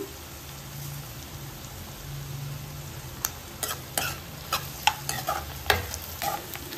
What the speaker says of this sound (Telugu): ఉల్లిపాయలు కొంచెం ఫ్రై అయ్యాయి కదా